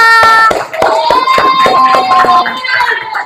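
A primary-school class claps together at the end of a science lesson, a few distinct hand claps ringing out close by over a loud sustained tonal background.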